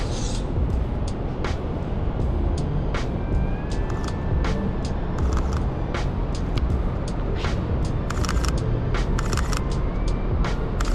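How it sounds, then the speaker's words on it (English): A car passing on a road during an outdoor photoshoot, a broad, steady roar of traffic noise with intermittent clicks of camera activity over it. "We got a car coming."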